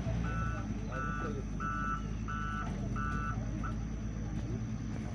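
A car backing up sounds a series of about five evenly spaced reversing beeps over a constant engine and outdoor rumble, with a final short beep before they stop.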